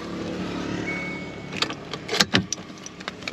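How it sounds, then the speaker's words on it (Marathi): Car being parked on a roadside stop near a big flyover, a low engine hum followed by a few sharp clicks and clunks of keys and door handling close by, no talking. "इथं आता गाडी लावतोय"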